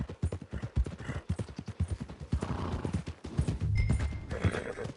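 Horse hooves clip-clop steadily in a game set in the Wild West, Red Dead Redemption 2, with a horse neighing, loud and close, over continuous ambient noise.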